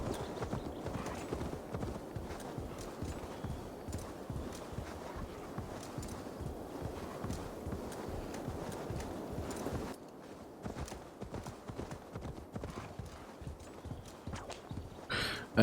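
In Assassin's Creed Valhalla, a mount's hooves clip-clop in a fast, steady rhythm over ground. The sound is continuous and close, then briefly changes surface and grows slightly quieter.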